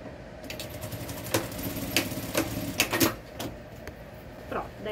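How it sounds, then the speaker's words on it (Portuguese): A sewing machine runs short bursts of stitching on a travel bag, a few quick mechanical rattles and clicks standing out over a steady background hum. "já vou dar uns pontinhos aqui na máquina também"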